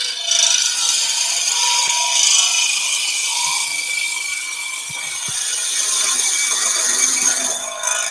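A hand tool makes a roughing cut on wood with a continuous rasping, scraping stroke sound, steady and close, with a few faint knocks underneath.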